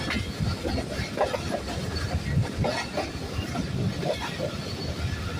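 The Awam Express pulling into Khairabad railway station with a Chinese-built engine in fog and rain, a continuous rumble of wheels on rails with irregular clanks and knocks, close and steady.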